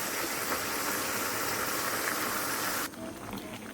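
Quail sizzling as it fries in a pan with spiced masala, a steady close hiss and crackle that drops away abruptly near the end.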